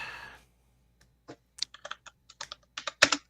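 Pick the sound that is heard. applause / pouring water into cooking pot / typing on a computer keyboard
typing on a computer keyboard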